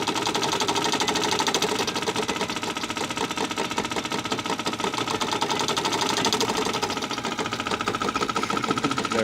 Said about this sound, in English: Little solenoid chugging away back there.